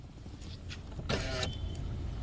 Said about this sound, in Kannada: ಇನ್ನು ಗಾಡಿ ಬಂದಾಯಿತು.